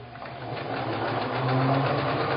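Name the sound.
sewing machine stitching a quilt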